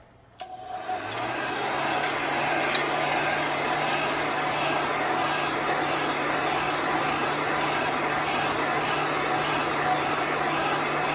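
A handheld dryer blows on wet chalk paste on a craft bunny, a steady loud whir that starts abruptly and holds constant for the rest of the clip.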